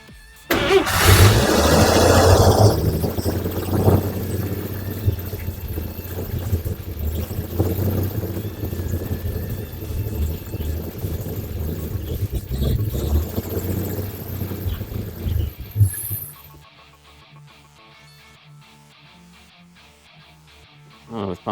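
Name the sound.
old vehicle engine running on brake cleaner spurts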